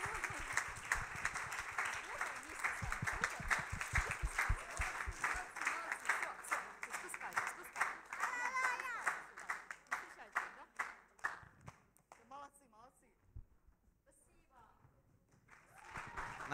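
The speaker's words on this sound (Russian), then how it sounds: "Аплодисменты" Congregation at a church Thanksgiving service clapping loudly in a dense roar, with a voice speaking over it; the clapping thins and fades by the end, leaving scattered claps.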